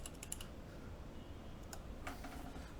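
Keys clicking on a carbon fiber TKL mechanical keyboard, a few quick taps at the start and a short burst near the end over a steady room hum.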